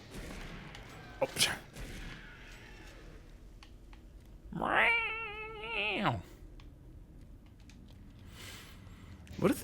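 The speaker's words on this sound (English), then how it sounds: "What if they gave Doom Guy a little kitty partner" A cat meows in a drawn-out, wavering call in the video game Doom 3, one clear cry at mid-loudness standing out between sparse game sounds and short sharp clicks or shots.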